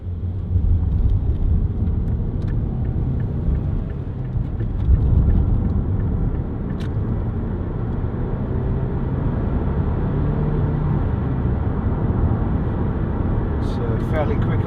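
A Mazda 5 1.8 TS2 five-door drives along the road, a steady low engine and road rumble filling the cabin, with someone talking over it.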